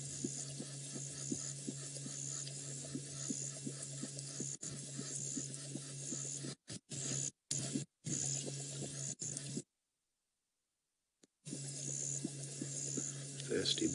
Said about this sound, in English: We'll actually be able to hear him lapping up the water.